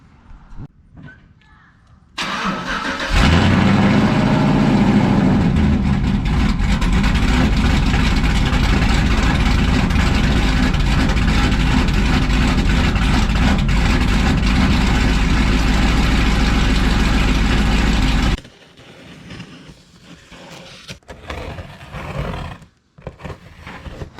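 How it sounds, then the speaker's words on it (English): A truck engine cold-starts with a short crank and roars into a loud, steady, close idle that runs for about fifteen seconds before cutting off, followed by quieter handling noises. "let's go ahead, get a cold start, and move this thing over a few inches."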